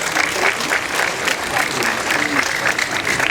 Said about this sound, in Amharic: ህፃናት ብቻ አጨብጭቡ እስኪ።